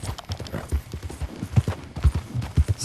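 Horse hooves clip-clop in Red Dead Redemption 2, a quick irregular series of close, hollow thuds and knocks throughout.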